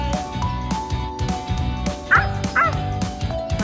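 A child imitates a dog barking, repeated yips and bow-wows in a steady rhythm, close and loud, with a couple of higher whimpering cries partway through.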